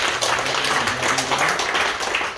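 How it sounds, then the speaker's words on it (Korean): A church congregation applauding after a choir's praise, dense steady clapping that fills the room at close range for a couple of seconds. "우리 하나님 앞에 감사의 영광의 박수를 돌렸습니다"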